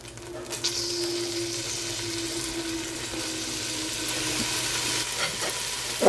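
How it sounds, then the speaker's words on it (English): Beef browning in a hot pot, with a loud, steady sizzle and frying crackle up close and some stirring, continuous throughout. "Our beef is brown."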